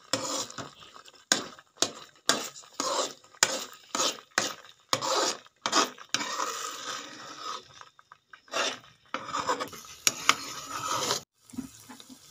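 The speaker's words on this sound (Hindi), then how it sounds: "चम्मच इसका बराबर हिलाते रहें।" A spoon stirring grated carrots roasting in desi ghee for carrot halwa: repeated short scraping and sizzling strokes in a quick, uneven rhythm with brief pauses, close up and with no voices.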